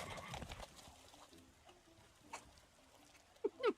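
Horses in the Love and Deepspace video game, with soft hoof clip-clops and shuffling on a farm, ending with a couple of brief, louder whinny-like calls.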